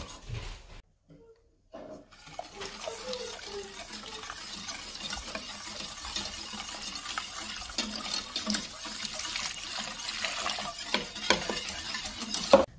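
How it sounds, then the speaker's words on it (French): Milk is poured into a custard mixture of cornstarch in a bowl for pastry cream, followed by continuous close stirring with soft liquid swishing and scraping. "on va ajouter donc les 500 g de lait"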